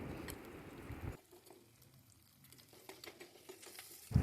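Green chillies dropped into a hot pan for a fish head curry, a loud sizzle and spatter that cuts off abruptly, followed by quieter faint crackling before another burst at the end.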